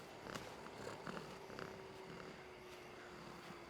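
A cat in Blacktail purrs softly, a faint, quiet rumble with a steady rhythm that holds alone for a few seconds.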